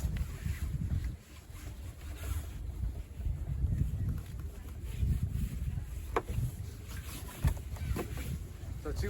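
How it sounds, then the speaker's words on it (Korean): Sailboat under a reefed genoa with the engine off, dominated by steady wind buffeting the microphone and low rushing water along the hull, with occasional brief knocks and creaks but no motor. "자, 지금 항해 중입니다"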